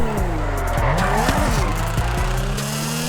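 A Nissan GTR R35 drifts in GTA 5, its tires squealing in repeated sweeping screeches over a loud, shifting engine note, close and continuous, with no voices.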